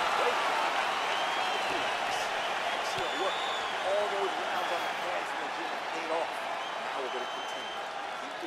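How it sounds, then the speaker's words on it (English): A large arena crowd at an MMA event applauds and cheers steadily after a round, making a dense, continuous roar of clapping and voices, with a commentator talking over it. "So the crowd voicing its appreciation after that round."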